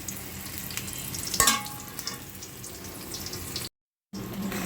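Eggplant slices fry in hot oil, giving a continuous close sizzle with a sharper crackle burst early on and a brief dropout near the end.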